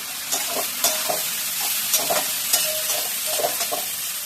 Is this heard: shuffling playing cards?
no